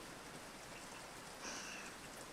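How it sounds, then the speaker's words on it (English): Steady rain sounds playing on a livestream, a soft even hiss of falling rain that swells slightly near the middle, faint and alone without talk. "Glad you're warming to the rain sounds, Ariana."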